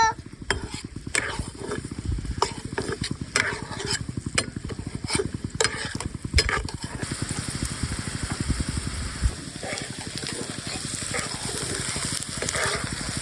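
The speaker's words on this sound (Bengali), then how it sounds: "দেখুন কি সুন্দর ভাজি হচ্ছে।" Onion fritters frying in hot oil give a dense, close crackling sizzle that runs the whole time, with a few sharp utensil clicks early on and no talk.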